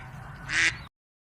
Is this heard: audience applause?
no